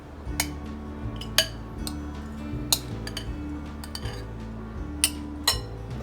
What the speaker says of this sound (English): now we're going to mix in our bowl